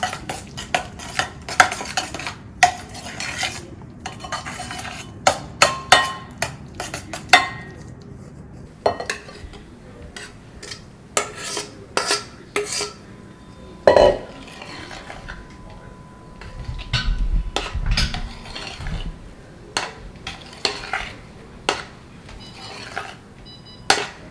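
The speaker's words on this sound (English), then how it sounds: "So now we're going to add the strawberry puree to the cream. And just blend that in." Strawberry puree whisked into cream in a bowl, with rapid clinking strokes of a whisk against the bowl coming in irregular bursts and pauses, close, with some brief talk between them.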